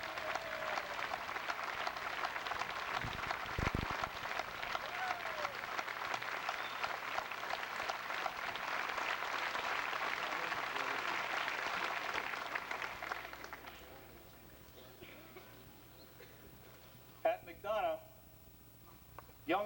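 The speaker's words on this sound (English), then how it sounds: "please stand for applause." Faint, distant audience applause for grandparents standing at a school event. A steady wash of clapping lasts about twelve seconds, then fades into quiet room tone with a few stray sounds.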